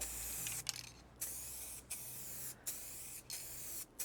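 Spray can hissing in short bursts as a light mist of paint goes onto a motorcycle panel, close and steady with brief pauses between passes.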